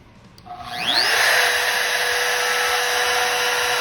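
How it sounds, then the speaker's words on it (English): A palm router spins up and bites into wood, rounding the top edge of a cornhole leg; the motor whine rises over the first second, then holds as a loud, steady, close cut with no voices. "the way I'm holding the palm router is actually moving left to right with the blade"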